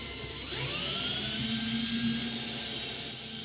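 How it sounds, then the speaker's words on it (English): A drill whirs up to a steady high-pitched whine, then bites and stutters in short bursts as it cuts through material. "That's all there is to the drilling"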